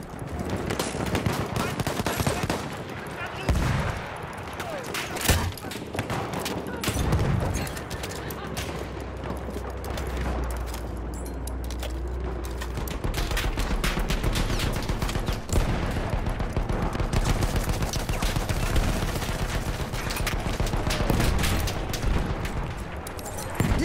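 Lewis gun machine gun firing in long, dense bursts of rapid shots, loud and close, with heavy low rumble and echoing reports running almost continuously throughout.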